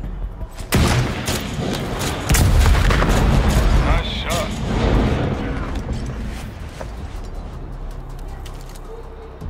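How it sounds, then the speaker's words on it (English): Booming RPG launch and heavy explosion in the shooter game CrossfireX, loud and close, followed by a long rumbling decay with game voices speaking over it. "Hit the sniper with the RPG."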